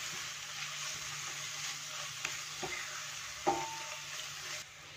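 Tomato, onion and spices fry in a pan for palak paneer, a quiet, even sizzle with a few faint utensil taps and scrapes. The hiss cuts off abruptly just before the end.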